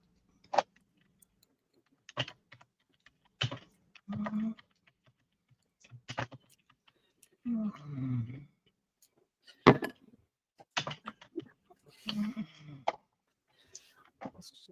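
Intermittent clicking of typing on a computer keyboard, in short scattered bursts separated by pauses, fairly close and quiet, with occasional soft voice sounds in between.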